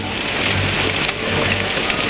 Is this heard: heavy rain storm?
yes